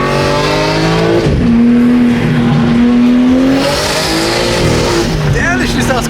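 Lamborghini V-type engine fitted with a mid-pipe exhaust revving loudly at close range during a Monterey Car Week street gathering, the raw tone rising and falling steadily with a voice speaking over it.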